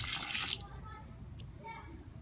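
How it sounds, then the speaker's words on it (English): Water from a half-gallon container splashes into a bucket of dry cement mix for a homemade boat anchor, a loud broadband pour for about half a second, then a softer trickle with faint background voices. "So take your container of water and pour about a third of it"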